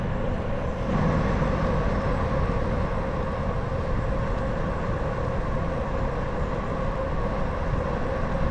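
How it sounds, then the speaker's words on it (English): School bus rolling along a road, its broad rumbling engine and road roar loud and steady, heard from close by at the roadside while riding a bicycle. "School bus."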